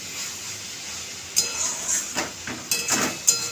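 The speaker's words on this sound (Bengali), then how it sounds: "লঙ্কার গুঁড়োও দিয়ে দিলাম। এটা ভালো করে কষানো হবে" Chili powder sautéing in hot oil for a kabuli chickpea curry, a steady close sizzle and hiss with a few louder spitting bursts near the end.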